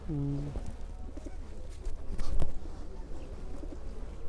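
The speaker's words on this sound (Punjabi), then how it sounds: "ਸੈਂਕੜਿਆਂ ਦੀ ਗਿਣਤੀ ਜੇ ਇੱਥੇ ਕਬੂਤਰ ਨੇ" Soft pigeon cooing close by from a flock of hundreds at a forest gurdwara, a low throaty call at the start, then quieter rustling and scattered bird sounds with faint background voices.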